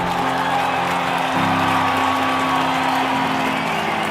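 A large crowd roars and cheers at the St. George Marathon finish line, a steady wash of far-off voices and applause that swells slightly partway through and holds loud throughout.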